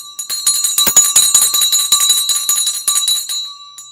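A bright stock market closing bell rings rapidly and continuously for several seconds, loud and close, with steady metallic tones and no talking.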